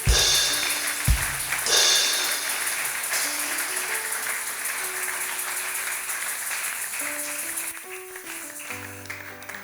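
A church congregation applauding to acclaim the Lord, a broad wash of clapping filling the room with a sharp thump early on, while sustained organ or keyboard chords play beneath and linger as the applause thins out.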